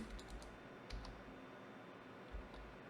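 Keys clicking on a computer keyboard as a short filename is typed, a few quick soft taps spread across a quiet few seconds, close and faint.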